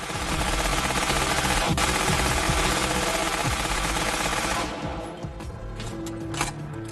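German MG42 machine gun firing, a continuous very rapid buzzing stream of shots, loud and sustained for several seconds before easing off into quieter scattered noise.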